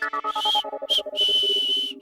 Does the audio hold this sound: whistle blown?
yes